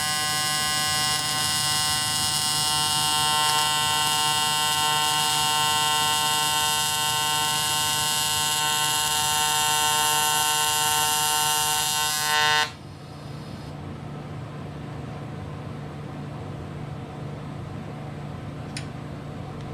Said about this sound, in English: Anytime you weld something like this